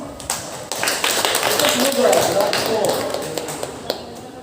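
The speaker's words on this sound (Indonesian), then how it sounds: "Ya, kita kasih aplaus." An audience at an Islamic religious gathering gives a round of applause, steady close clapping heard alongside people talking.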